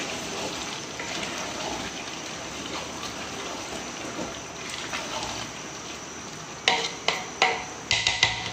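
Salted rice being stirred in a large pot for a 3 kg chickpea biryani, a soft continuous wet churning hiss followed by a series of sharper scraping strokes of the spoon near the end.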